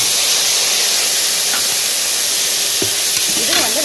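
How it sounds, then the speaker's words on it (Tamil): Tomatoes sautéing in a pan for mutton kuzhambu make a loud, steady sizzling hiss, close by, with a couple of brief knocks of a utensil near the end and no talking. "இது வந்து நல்லா வதங்கட்டும்."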